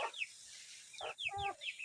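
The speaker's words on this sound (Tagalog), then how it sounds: "itong mga manok ko guys" Backyard chickens in a rural province make short clucks and squawks close by, a few quick calls that come in bursts with brief pauses between them.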